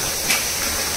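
Steam boiler cooking cashew kernels in a factory gives off a continuous loud hiss with a brief swell of venting steam, set against steady machinery noise.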